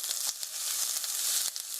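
Chopped onion sizzles in a pan of oil heated for one minute, a steady close hiss with a few brief crackling pops and no talk.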